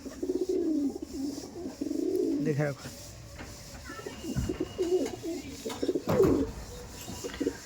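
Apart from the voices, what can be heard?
Kalshira pigeon pair cooing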